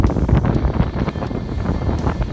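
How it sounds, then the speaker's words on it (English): Gale force wind buffeting a sailboat at sea, a loud continuous gusty roar with heavy rumble against the microphone, no talking. "we've got gale force winds here"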